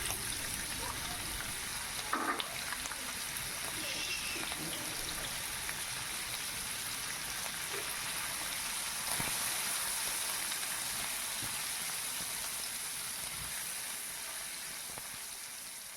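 Marinated prawns fry in hot mustard oil, giving a steady, dense sizzle that runs unbroken throughout, with an occasional soft scrape of stirring.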